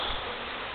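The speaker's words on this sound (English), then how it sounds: "Bees are really hacked off." Angry feral bees buzz in a dense, steady swarm drone during a hive cut-out, close and continuous with no voices.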